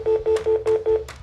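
Telephone dialing tones beep in five short, even pulses at a quick steady pace, clear and close, followed by a brief fade.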